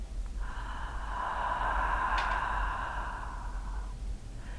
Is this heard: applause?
no